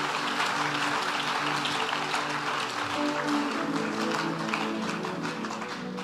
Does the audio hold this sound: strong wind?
no